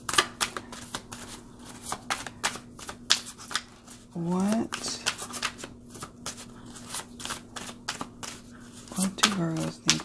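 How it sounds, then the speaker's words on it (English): Oracle cards are riffle shuffled repeatedly close up, giving quick bursts of crisp flutters and taps, with a voice speaking between them. "I'm going to make sure these are nice and shuffled"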